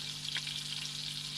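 Burgers and eggs fry for dinner at an ice-fishing camp, giving a steady, close sizzle and crackle over a low hum, with no talking.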